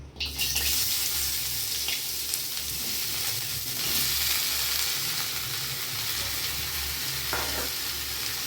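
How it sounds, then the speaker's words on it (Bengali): Snake gourd pieces and eight to ten garlic cloves frying in a little oil, a dense, loud, continuous sizzle with faint stirring scrapes and a low hum underneath, no talk. "এই সামান্য তেলের মধ্যে দিয়ে দেবো এই যে চিচিঙ্গাটা কেটে নিয়েছি, একদম এই চিচিঙ্গাটা দিয়ে দেবো"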